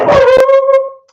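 A dog gives a single short whimpering yelp, a tonal whine about a second long that rises sharply and trails off, close and loud with no talk.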